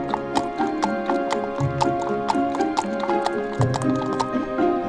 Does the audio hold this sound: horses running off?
yes